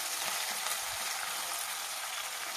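Onions sizzle steadily in a hot pan while being stirred, a close, continuous crackle with faint scraping for a lentil and amaranth-leaf dal, with no talk.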